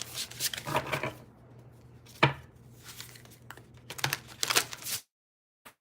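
Tarot cards being shuffled by hand, a series of soft riffling and slapping bursts in uneven clusters, close and fairly quiet over a low steady hum, ending in silence.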